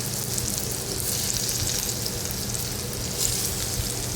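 Vadis shallow-frying in a little oil in a pan over medium heat, a steady close sizzle and crackle running continuously with no talking.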